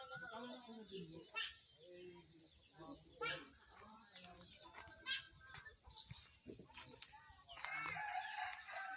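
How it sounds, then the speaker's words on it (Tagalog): Chickens and roosters crow and cluck at close range outdoors, with several crowing calls rising at intervals, while quiet background voices can be heard between them. "Daming manok dito"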